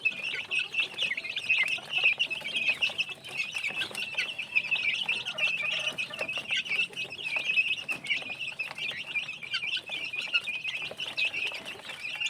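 A brooder full of chicks chirps steadily in a busy, high-pitched chorus of overlapping peeps. The calls stay fairly near and continuous throughout, with no speech.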